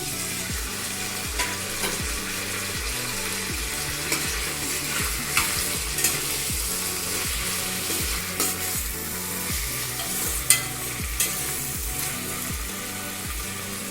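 Two chopped tomatoes are sautéed in a pan for chicken biryani, a continuous sizzle with steady, rhythmic stirring scrapes repeating close by.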